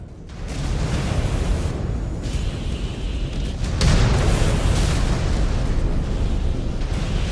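Mech weapons fire downrange in MechWarrior 5 Clans, a dense, continuous barrage of loud blasts and booming explosions with rumbling low end and no talk.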